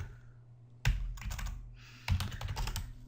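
A computer keyboard typed on in two quick bursts of clicking keystrokes, close and clear, with a short pause between them as a file name is entered.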